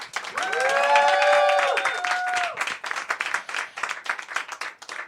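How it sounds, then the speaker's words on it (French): A cabaret audience greets a performer with loud whoops and cheers that give way to a thick burst of clapping from many hands, fairly close and continuing to the end. "Je vous demande donc de faire un tonnerre d'applaudissements pour Garance Shinance"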